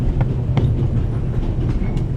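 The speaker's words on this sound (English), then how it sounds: "The noise on this train is driving me crazy." A steady, loud rumble of a moving train aboard the Orient Express in The Raven Remastered, with faint rhythmic clicks over the low drone and no talk.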